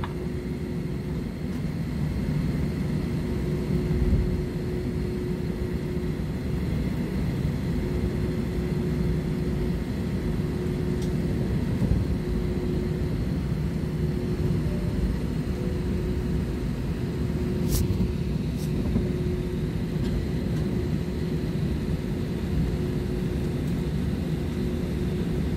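Steady, loud low roar of engines inside the cabin of a Super Air Jet Airbus A320 during takeoff, a continuous even rumble with no voices heard.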